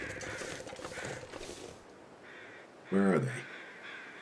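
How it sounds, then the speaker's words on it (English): Crows caw in The Long Dark, a snowy survival video game: one short, loud burst of harsh caws stands out over ambient wind and creaking noise, with someone talking briefly beforehand. "Well, I'm hearing some crows."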